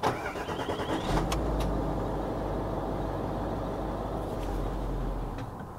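Range Rover diesel engine cranking and catching briefly, then running rough and low before cutting out from lack of fuel, close by with no one talking.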